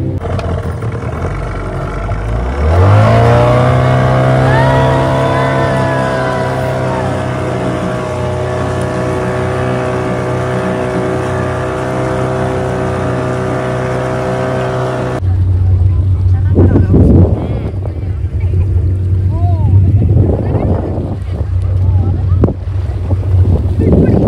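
Motorboat engine drones steadily with a rising then sustained tonal hum as the boat gets under way, shifting to a lower, rougher rumble midway, with wind buffeting the microphone throughout.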